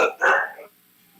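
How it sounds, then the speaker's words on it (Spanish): A single dog bark, short and loud and close, made of two quick bursts in under a second, then it fades into near silence. "la perra anda brava y no necesariamente allá en donde te encuentras"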